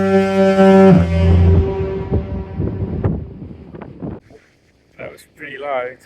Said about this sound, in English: they sound the foghorn here